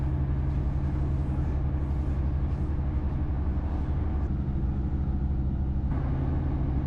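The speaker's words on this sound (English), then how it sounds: "this might not be the fastest train in the world" An Irish Rail train rumbles along steadily through the West Ireland countryside between Galway and Limerick, with a deep, continuous low roar and rattling, loud and unbroken throughout.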